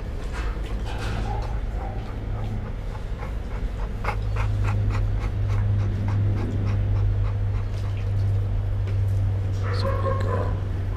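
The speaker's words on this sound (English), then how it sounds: "Good doggy, Rocky." A dog in a shelter kennel pants steadily and close by, with a few short barks and yips scattered through the breathing.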